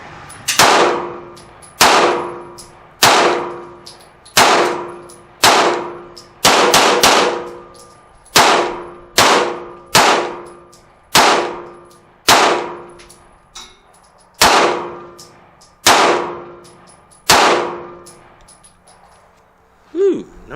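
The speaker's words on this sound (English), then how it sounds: "The Tisas Double Stack 1911 9mm. First shots." About fifteen pistol shots from a Tisas B9R double-stack 1911 in 9mm at a range, sharp ringing reports fired singly and in quick pairs at an irregular pace, each decaying fast into quiet.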